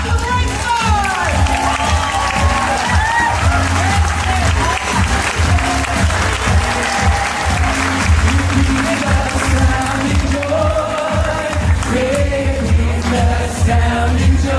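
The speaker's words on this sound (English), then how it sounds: "Let's give a big round of applause to the bright stars." Sustained audience applause and cheering for performers at a family Christmas show, loud and continuous throughout, with voices and music carrying underneath the crowd noise.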